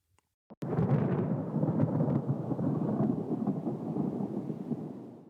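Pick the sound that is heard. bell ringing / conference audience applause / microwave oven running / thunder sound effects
thunder sound effects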